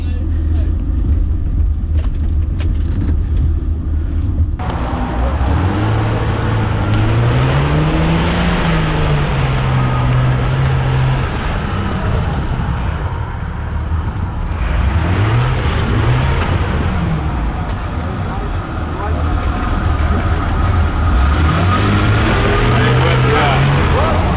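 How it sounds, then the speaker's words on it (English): Jeep 4x4 engine laboring on a steep off-road climb at the Bridgestone 4x4 Club Challenge 2017, revving up and down in repeated strained surges under voices. "The Jeep still ain't going up there."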